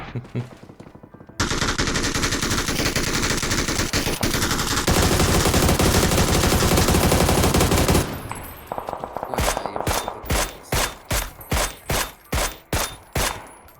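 Loud, continuous bursts of rapid gunfire in the video game PUBG fill the air, then break into a string of separate heavy shots in a regular rhythm, with no talking.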